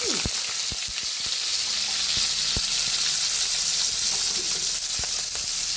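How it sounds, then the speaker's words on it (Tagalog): Beef loaf frying in a hot pan, a loud, steady close-up sizzle with scattered sharp pops and crackles throughout. "Prito lang."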